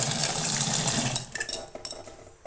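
Chopped vegetables get washed in a bowl in a home kitchen, with water sloshing and clattering pieces against the bowl, then softer scattered knocks and drips as the washing slows.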